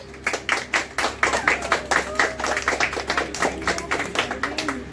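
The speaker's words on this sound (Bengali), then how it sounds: "হাততালি সবাই" An audience claps at an Independence Day celebration held by a trust, with quick, rhythmic, fairly loud hand claps that keep up without a break for about five seconds.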